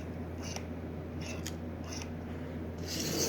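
The reversing E unit of a worn Marx 999 toy locomotive in dreadful condition, with oxide-covered brushes and armature, gives faint brief clicks and buzzes over a steady electrical hum, ending in a slightly louder whir.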